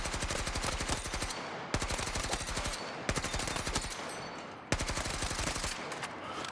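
Bullfrog gun hipfired in Battlefield 6, loud rapid automatic bursts in four long strings with brief gaps between them, close and sharp with no talking.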